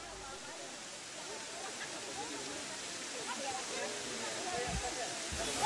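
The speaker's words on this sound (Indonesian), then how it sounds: "Suara gemericik yang riuh dari air jatuh" Curug Cilember waterfall, water falling in a steady broad roaring hiss that grows slightly louder toward the end, with faint speech under it.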